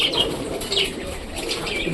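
Rajshahi yellow-eyed Giribaz pigeons cooing softly in a loft, with faint chirps and wing flutters over a steady background hum.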